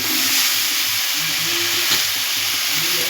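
Mixed vegetables and grated potato sizzling loudly in a hot pan, a constant close frying hiss with faint scraping as the mixture is stirred.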